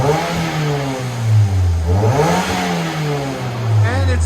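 2010 Toyota Matrix S with a five-speed manual and Borla Pro-XS exhaust revving up and down in loud, close swells, its pitch rising and falling twice.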